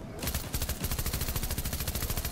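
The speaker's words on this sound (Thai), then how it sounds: "อยากยิงปืนพกดูซะหน่อย" A pistol fires rapidly in the video game Fortnite, a fast, even burst of sharp shots that runs continuously and loudly from start to finish.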